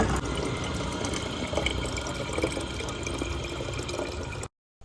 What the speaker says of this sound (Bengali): লেখার কাজ বন্ধ করে চলে গেছিলাম জল ভরতে